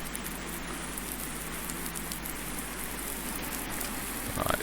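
Rain in the farming game Farming Simulator 19, a steady close patter and hiss with a low background hum, constant throughout without talk.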